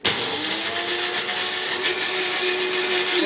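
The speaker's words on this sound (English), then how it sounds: "I'm going to take an egg, and a whole egg, and I'm going to put it in my magic bullet" A Magic Bullet blender mixes a whole egg with a loud, steady whir that runs unbroken and close, with no voices over it.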